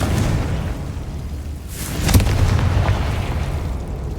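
Confringo explosion spell in Hogwarts Legacy, a loud fiery blast that swells into a rumbling burst about halfway through, set over dense, continuous game noise.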